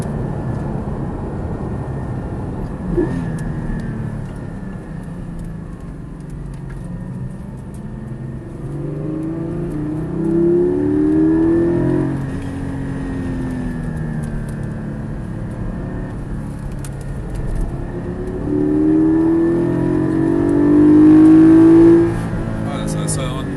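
Porsche 718 Spyder engine pulling hard on track at Circuit de Charade during a Porsche Days session, a steady in-car drone rising in pitch through long gears, with two clear climbing pulls under occasional talk.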